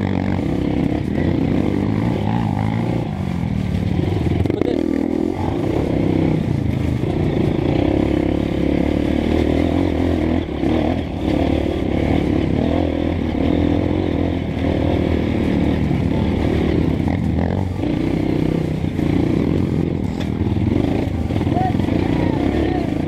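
A Honda CRF 230 trail motorcycle engine runs continuously up close on a dirt trail, a dense, throbbing drone with small rises and dips, while a rider speaks over it.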